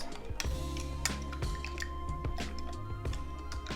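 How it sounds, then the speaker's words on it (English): A liquid marinade for fried cauliflower is mixed up close in a bowl, making wet, squishy sloshing with sharp drips and clicks in an uneven rhythm and no talk. "go ahead and give it one good mix again. One more good mix."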